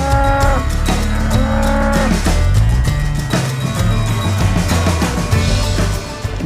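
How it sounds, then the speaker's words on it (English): Long-haired, long-horned cattle moo loudly and repeatedly during a roundup in Tasmania's Derwent Valley, deep overlapping lows from several animals close by. "A biscuit of hay and a lot of yelling gets these long-haired, long-horned cows running."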